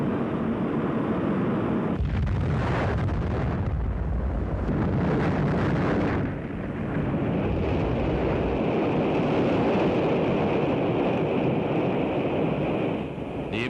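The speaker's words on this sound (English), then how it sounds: "The immediate cause of the explosion is not known." An Atlas-Centaur rocket explodes after launch, a loud sustained broadband roar and rumble with a sharp burst near the start, continuing as a heavy wind-like blast without any voices.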